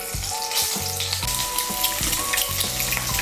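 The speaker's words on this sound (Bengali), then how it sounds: "এই ডিমগুলো আমি এর মধ্যে এখন ভেজে নেব।" Four halved chicken eggs fry lightly in hot oil in a wok for Bengali egg malai curry, with a loud continuous sizzle and a faint tonal melody running underneath.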